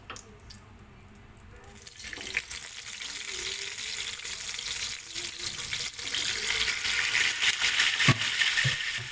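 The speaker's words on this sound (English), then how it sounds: "So first, we'll just fry our fish." Tilapia fish frying in a pan for Filipino sweet and sour escabeche, a steady crackling sizzle that builds after a quieter start and stays close and continuous with no talking.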